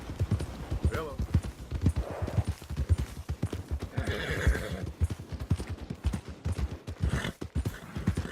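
A horse in Red Dead Redemption 2 whinnies over a steady, rhythmic clip-clop of hooves on the ground, with a voice talking over the riding sounds.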